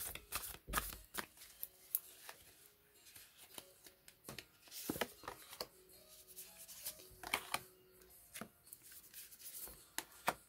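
Tarot cards being shuffled, slid and laid down on a table during a reading, with a run of crisp paper flicks and soft slaps close by at an irregular pace.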